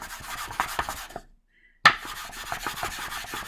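A pill rolling device rubbing against its rim while dough is rolled out, heard as close, repeated rasping scrapes with a silent gap followed by a sharp knock.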